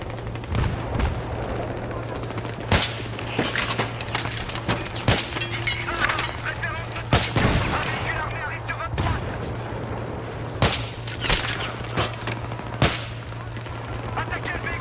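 Battlefield 3 combat in a night mission: scattered loud gunshots and bursts of fire with heavy impacts at irregular intervals over a steady low hum, while soldiers shout in French.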